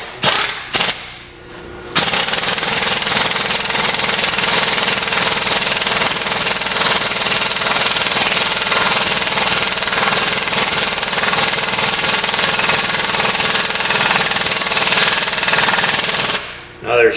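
A pneumatic impact wrench hammers continuously for about fifteen seconds, driving a hollow tool onto a bearing on a shaft. The loud, rapid rattling is broken only by a few short bursts at the start.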